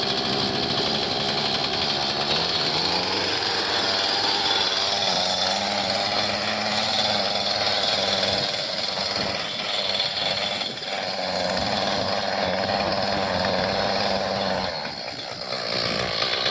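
A small garden engine running steadily on half choke, a loud continuous buzzing drone with slight wavering in pitch throughout, close by and with no talk.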